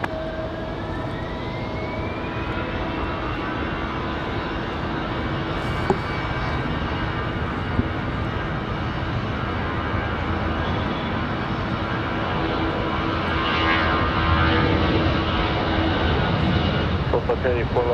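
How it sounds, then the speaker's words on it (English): An Airbus A320 jet departing at Raleigh-Durham International Airport, its engine roar steady and broad throughout, swelling slightly toward the end, with faint radio-style chatter underneath. "Nice sounding A320 departure"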